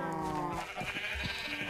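A Minecraft sheep bleats a couple of times at close range, short wavering calls over a steady background hum.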